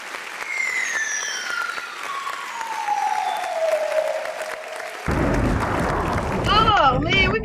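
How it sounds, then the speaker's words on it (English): A canned applause effect plays on a virtual stage, a dense wash of clapping that swells louder near the end, while voices chatter and a whistling tone slides down behind it. "We got claps."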